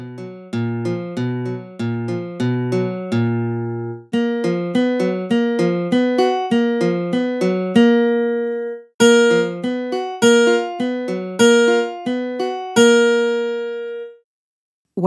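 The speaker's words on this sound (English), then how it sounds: "Now you can play the pads with varying force to hear how they sound." Pads on a Native Instruments Maschine Studio in keyboard mode trigger multi-velocity samples, producing bell-like pitched hits in quick melodic phrases that vary in loudness and brightness, with short pauses between runs and no talking.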